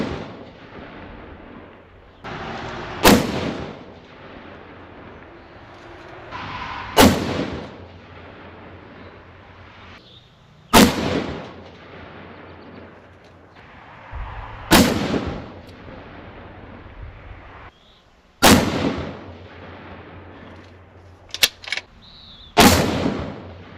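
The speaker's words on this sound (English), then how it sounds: "I will put the brake on and we will shoot another group with the brake" Rifle fired with a muzzle brake on an outdoor range: six sharp, loud, booming shots spaced roughly four seconds apart, each with a brief echoing tail over quiet background.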